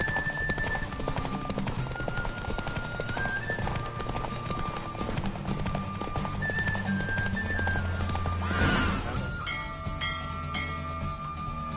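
Horse hooves clip-clop rapidly through a gallop in the Witcher 3 video game, with a whinny breaking through, over a steady bed of game music and ambience.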